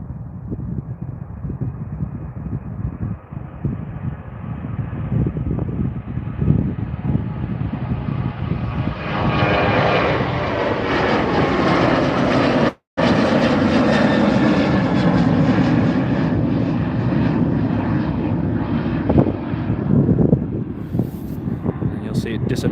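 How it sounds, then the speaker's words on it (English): A WestJet Boeing 737 jet takes off from runway 35R at Calgary Airport in cold, windy weather, its engine roar building steadily into a loud, broad rush that stays strong, with wind buffeting the microphone and a voice talking over it. "here comes a WestJet 73."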